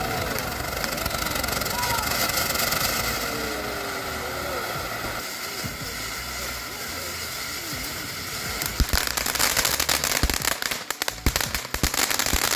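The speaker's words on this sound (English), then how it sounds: "This is one of the best fountains that TNT has." A TNT Crypto firework fountain sprays glitter with a steady, loud hiss and crackle lasting many seconds, intensifying into denser popping near the end, with people talking over it outdoors.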